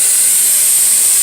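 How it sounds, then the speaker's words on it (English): A pneumatic lab circuit runs as air hisses steadily and loudly while the motor drives a cylinder to extend, a brief unbroken rush of compressed air with no voices. "now the motor will run and then the cylinder will extend to 20"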